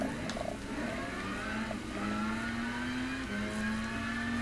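A race car engine held in sixth gear in the Gran Turismo 6 racing game, a steady droning whine at high revs with a slight pitch dip and recovery, continuous and fairly loud, no talk.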